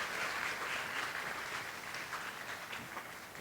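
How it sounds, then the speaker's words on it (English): An audience at a university math fair applauds steadily, a faint, dense patter of many hands clapping continuously with no talking over it. "I think she needs a round of applause just for that."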